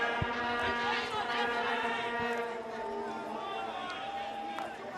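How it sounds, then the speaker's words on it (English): Droning vuvuzelas blown by the crowd at a men's field hockey World Cup match between Korea and South Africa in The Hague, a buzzing horn chorus holding long tones under a commentator's voice. "It's a familiar sound you hear in the crowd, isn't it? Almost reminds you of the Football World Cup back in South Africa. The Vuvuzela."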